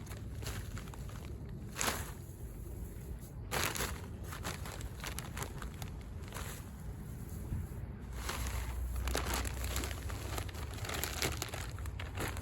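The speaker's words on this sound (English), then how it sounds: "we're just going to add a layer of mulch to protect it from the ice and snow." Organic mulch is spread by hand over freshly planted, watered garlic cloves in a fall garden bed, soft crunching and crinkling rustles in irregular bursts, close but fairly quiet.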